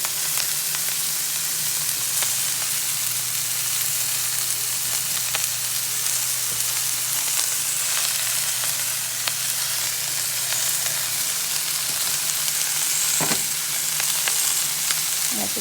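Washed cabbage fries in a hot pan with a dense, continuous sizzle and crackle, close and steady throughout, with a low hum underneath and occasional stirring clicks; no voices.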